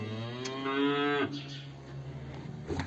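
Cattle in a snowbound village, thin and hungry, let out a long, close moo that slides downward, followed by quieter stirring and shuffling of livestock nearby.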